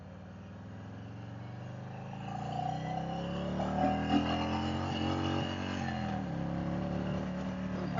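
A Harley-Davidson Street Glide cruising at night in Phoenix, its engine a steady low rumble heard from the rider's seat, slowly building in loudness with road and wind noise around it.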